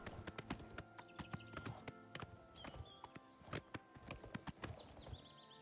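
Horse hooves clip-clop at a steady walking pace in The Elder Scrolls IV: Oblivion Remastered, crisp and fairly close, with faint ambient sounds behind.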